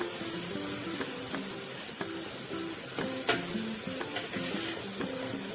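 Ginger garlic paste and tomatoes sauteing in a pan for chicken dum biryani: a constant close sizzle with scattered scraping and stirring strokes at an irregular pace, moderately loud and with no one speaking.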